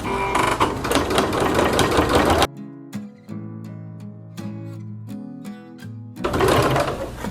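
A sewing machine stitches quilt-as-you-go blocks at a short stitch length, loud rapid whirring chatter in two bursts at the start and end, separated by a quiet stretch of music.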